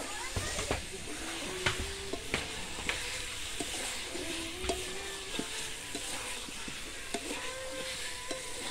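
Water poured into a pan of frying ground spice mix for a children's picnic egg curry sets off a steady close sizzle, with scattered clicks and scrapes from stirring and faint voices in the background.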